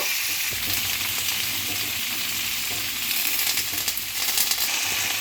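Lima beans frying in a pan give a steady, close sizzle that runs unbroken throughout, with faint stirring scrapes and no voices.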